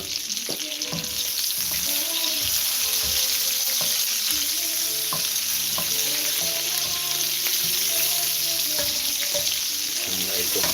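Onion and tomato sauté in a hot pan with a steady, close crackling sizzle, broken by light scraping and clinking stirs throughout.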